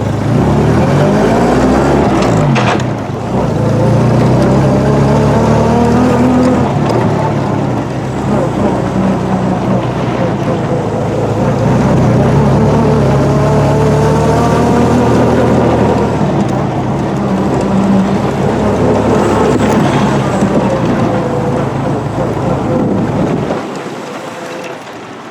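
A BSA sports trike's engine, freshly revived after more than 30 years unused, runs steadily and loud and close for most of the clip, with voices talking over it now and then before it cuts off near the end.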